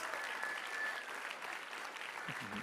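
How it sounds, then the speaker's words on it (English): An audience at a school violence prevention assembly claps steadily in a dense, continuous round of applause filling the hall, with a brief voice breaking in near the end. "let's give our guest presenter another warm round of applause"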